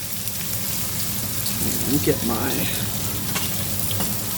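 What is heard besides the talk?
rinsed rice added to hot oil and stirred with a wooden spoon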